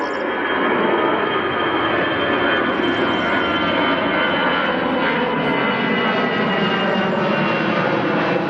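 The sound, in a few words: airplane taking off at Berlin airport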